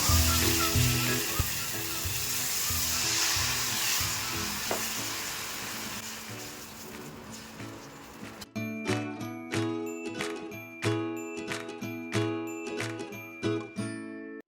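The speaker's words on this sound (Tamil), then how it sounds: "இப்போ தோசைக்கல் ஹீட்டானதுக்கப்புறம் எண்ணெய் தடவிட்டு நம்ம தோசை விட ஆரம்பிச்சிடலாம்" Ragi dosa batter sizzles on a hot, oiled griddle as a steady hiss for about eight seconds. Then the frying gives way to a run of bright metallic clinks and rings at a regular pace. No one speaks.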